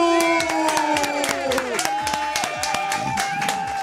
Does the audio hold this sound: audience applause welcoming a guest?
yes